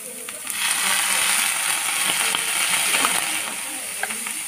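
Momo filling frying in a pan with a splash of vinegar, giving a steady broadband sizzle with faint clinks and stirring, close and moderately loud throughout.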